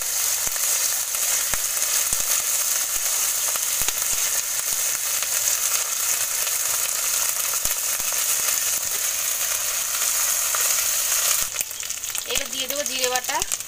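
Onion and whole garam masala fry in a pan, a dense, steady close-up sizzle with light crackling that runs throughout, and a voice briefly speaks near the end.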